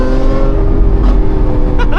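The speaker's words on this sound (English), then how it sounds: "Ooh, the pops." A Lamborghini Aventador SVJ's V12 engine drones loudly at close range, with a couple of brief exhaust pops crackling near the end and a short exclamation from a man.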